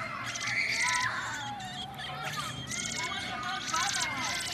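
Baby robin nestlings shriek in high, thin repeated calls for food, the squeals coming in bursts over a busy background of people chatting nearby.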